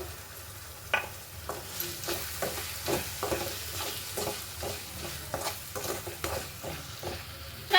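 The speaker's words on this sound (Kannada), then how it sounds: "ಟೊಮೆಟೊ ಹಾಕ್ಕೊಂಡು ಟೊಮೆಟೊ ಸಾಫ್ಟ್ ಆಗೋಕ್ಕೆ ಒಂಚೂರು ಉಪ್ಪು ಹಾಕ್ಕೊಂಡು" Tomatoes with salt frying in a pan give a steady gentle sizzle, while a spoon stirs and scrapes in irregular clicks and taps close by.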